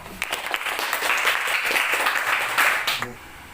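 A group of students in a classroom gives a round of applause after a group discussion presentation, steady clapping that swells and then stops abruptly near the end, with a little talk around it.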